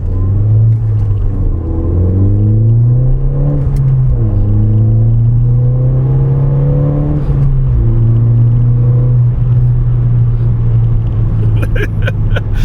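A Ford Fiesta ST pulls hard on an open road, its engine note climbing steadily through the gears with a short dip at each shift, loud and close from inside the cabin over constant road rumble.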